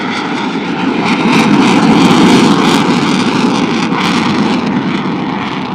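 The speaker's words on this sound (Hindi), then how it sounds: "पाक फिजाइया का F-16 इस वक्त सलामी के चबूतरे की जानिब गामजन है" A Pakistan Air Force F-16 jet passes at low speed during a military parade flypast, a loud, sustained roaring jet engine that swells and holds steady across the whole stretch.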